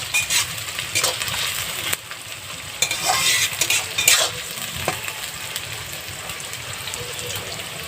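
Onions sizzle in oil for duck curry on a clay stove, with a continuous crackling fry broken by scraping stirs and occasional utensil clinks, close and moderately loud.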